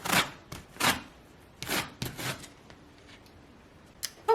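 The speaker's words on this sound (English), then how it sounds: "And always zest your lemon." A big lemon being zested for lemon bars, rasping in several short scraping strokes with pauses between them, close and fairly quiet.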